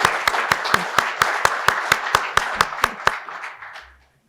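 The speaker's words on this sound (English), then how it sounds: "one final round of applause for all of our presenters" Sparse, evenly spaced claps from an audience at a healthcare economic forecast session, about a dozen sharp hand strikes in a steady rhythm over a background of light crowd noise, stopping abruptly.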